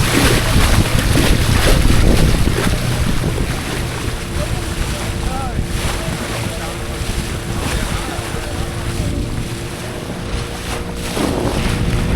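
A passenger boat ride to Bhogwe on the Konkan coast: steady engine drone, rushing water and heavy wind buffeting the microphone throughout, with a lower, steadier hum settling in midway.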